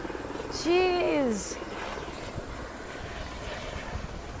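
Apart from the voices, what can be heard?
helicopter flying overhead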